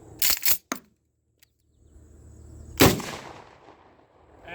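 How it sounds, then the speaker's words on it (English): A shotgun fires buckshot outdoors: a few sharp cracks early on, then one loud blast with a long, rumbling decay, and no voices. "What happens if you shoot a buckshot through there?"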